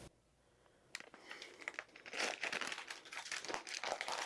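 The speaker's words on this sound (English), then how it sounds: "See if I can get this paper off." Parchment paper crinkles and crackles as it is peeled away from a freshly baked meatloaf, starting with a sharp rustle after a quiet moment and growing into a steady, close, dense crinkling.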